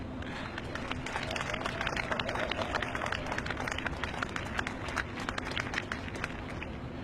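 An audience applauds warmly for a host's son about to speak at an evening gathering: steady, dense clapping that stays loud and even throughout, with no voices breaking through.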